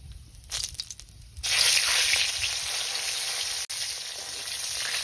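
Steady, close sizzling of bay leaf, cardamom and cinnamon frying in hot oil, jumping louder after a brief quieter start and continuing evenly with crackles.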